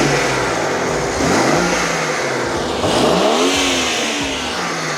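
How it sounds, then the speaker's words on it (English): A bone-stock BMW G80 M3 engine revs up close from a steady idle, with two sharp rising blips around the middle, loud and unaccompanied by voices. "We're gonna give it a little rev and just sound check of, they're both stock right now, so the G80"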